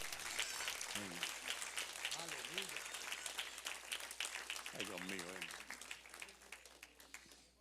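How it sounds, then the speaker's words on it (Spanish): A church congregation applauds steadily throughout, with a voice speaking and calling out over the clapping, ending a victory celebration at a service. "Un aplauso grande de victoria, hermanos"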